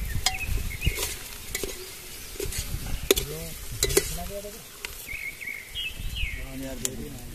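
Masala being stirred and fried in a pan at an outdoor village jungle party, a steady scraping sizzle with clinks of a spoon, while voices talk and birds chirp in the background.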